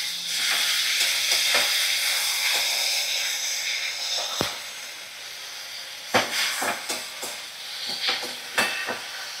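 Black mustard and poppy seed paste fries in a pan with a steady hiss, broken by scattered clinks and scraping stir strokes that grow busier toward the end, with no voices.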